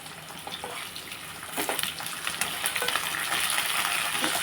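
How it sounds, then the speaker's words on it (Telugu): Curry leaves and mustard seeds, with lentils, fry in hot oil for a masala upma tempering, giving a close, steady sizzle with crackling pops that grow louder. No one speaks. "వేపుతున్నానమ్మా."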